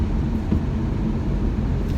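Steady, continuous low drone of a 2017–2018 Honda HR-V engine thrashing along through its CVT in eco mode, heard from inside the cabin under air-conditioning hiss, with no voices.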